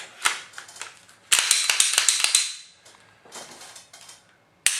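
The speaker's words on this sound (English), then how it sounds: "Test fire and dry fire a couple of times. Get the trigger reset, make sure it's good." Dry firing a Glock 19 pistol after cleaning and lubing: sharp mechanical trigger clicks and slide racking, a couple of bursts of metallic clatter with single crisp clicks in between, close and clear with no talk.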